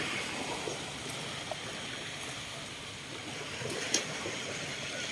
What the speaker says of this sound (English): you can hear the water from the ocean